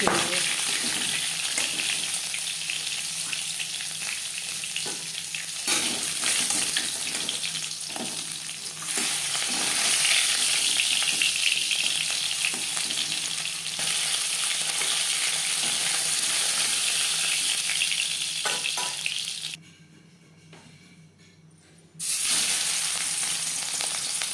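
Katla fish head frying in oil in a kadai, a continuous close sizzle with occasional stirring and spatula clatter, briefly dropping away near the end before resuming.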